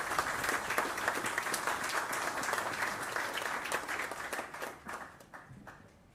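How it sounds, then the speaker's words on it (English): A crowd at a corporate financial results briefing applauds with dense, sustained clapping that holds steady, then thins out and fades toward the end. "So a round of applause."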